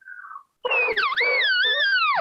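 A person's voice imitates a distressed elk cow call: a brief nasal whine, a short gap, then a loud, strained, wavering squeal with rising and falling pitch lasting over a second and a half, close and alone.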